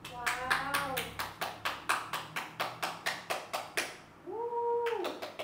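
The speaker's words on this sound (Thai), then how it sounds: "ปรบมือครับ" Steady rhythmic hand clapping, roughly three claps per second, close and clear; near the end a cat-like or mewing vocal sound rises over the clapping and then fades.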